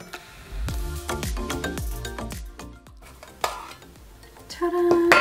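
Metal pieces of a Small Hours On The Go cutlery set clink and clatter as they are handled, a run of close, bright knocks and rattles with a denser burst near the end.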